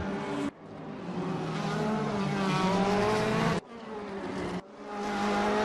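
Race cars in a DTM racing video game at the Red Bull Ring roar continuously at high volume, engine notes rising and shifting, with two abrupt cuts where the sound drops out briefly before resuming.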